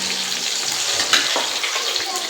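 Food fries steadily in a kitchen while pulao and chicken cook, a continuous loud sizzle with a few brief clatters and no talk over it.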